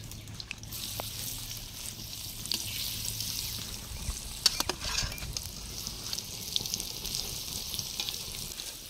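Pieces of raw banana frying in hot oil give a continuous bubbling sizzle with small pops and stirring clatter, fairly quiet and without speech.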